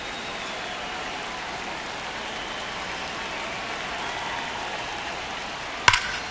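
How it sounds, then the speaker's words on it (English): Rain falling on a baseball field in a baseball video game, a steady even hiss of drops throughout with a single sharp crack near the end. "the field's not going to be able to hold off if the rain gets any worse than this"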